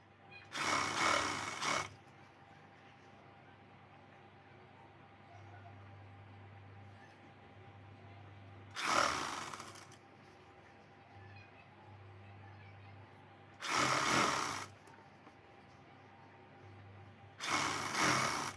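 A sewing machine stitches a cloth strip for a princess-cut blouse in short bursts, each a few seconds of rapid, close whirring chatter, with long quiet stretches of low hum between them.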